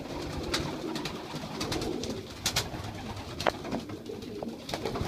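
Young plum and blue-check pigeons in a loft coo softly and repeatedly, low burbling calls over a light background with brief wing flutters or clicks, fairly faint and close.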